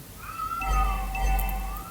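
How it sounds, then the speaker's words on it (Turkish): Cats in a garden yowl and meow in drawn-out, wavering caterwauls that overlap as if fighting, heard in the background against a low rumble, continuous through the moment. "Arkada kedi sesleri falan geliyor."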